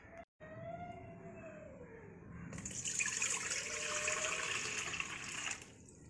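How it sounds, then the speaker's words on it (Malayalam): Water streams into a vessel holding flour for homemade murukku dough, a steady rushing pour lasting a few seconds before stopping, fairly soft and close. "ഏത് പാത്രത്തിലാണോ പൊടി എടുത്തത് അതേ പാത്രത്തിൽ തന്നെ വെള്ളം."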